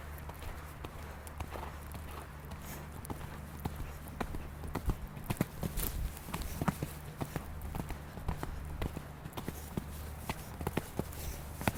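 Horse hooves clip-clop in a steady rhythm during a show-jumping training session, with regular close thuds and occasional sharper impacts over about twelve seconds, under a constant low background hum.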